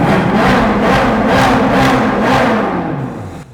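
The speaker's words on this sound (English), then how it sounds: "show you just how good this NA engine sounds" A naturally aspirated V8 engine of a 2009 Ferrari California revs repeatedly in neutral, rising and falling in several loud pulses before the pitch drops away near the end.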